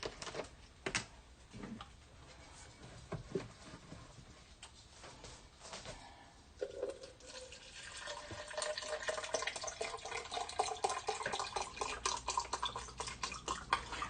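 Vegetable stock poured into a two-cup measuring cup: a steady liquid stream that builds and rises in pitch as the cup fills, preceded by a few clinks and handling knocks, close and moderately loud with no talking.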